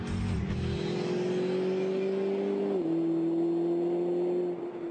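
A 2011 Mercedes SLS AMG engine revs high and holds a loud, steady whine, dropping pitch briefly as it shifts, close and continuous with no talking.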